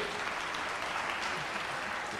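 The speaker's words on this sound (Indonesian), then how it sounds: "Kita beri tepuk tangan pada Philip." An audience at a university investment Q&A talk applauds Philip, a brief, even burst of many hands clapping in a hall, steady and dense throughout without voices.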